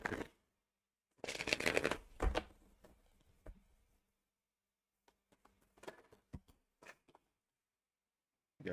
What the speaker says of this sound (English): let me shuffle and see what we got for Aries.